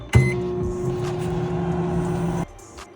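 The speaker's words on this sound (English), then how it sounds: "Then throw it in the microwave" A microwave oven runs with a steady, even electrical hum for about two seconds, starting with a clunk and cutting off abruptly, while cookie dough warms inside; no talking.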